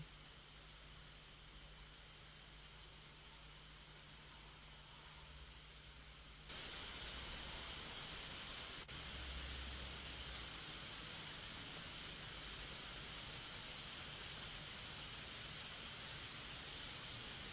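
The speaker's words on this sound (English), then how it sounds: "Suddenly, I could hear the sound of rain." Steady rain falls in the video game Seabed, a soft even hiss that turns louder and denser partway through and then continues without pause.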